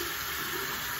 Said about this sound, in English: I use hot water to wash my face.